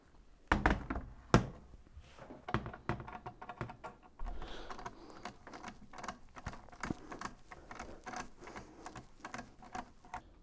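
Torx head screws driven back into a Hoover washing machine door hinge assembly make a run of dense clicks, taps and small knocks, irregular and close, with a few louder thunks near the start.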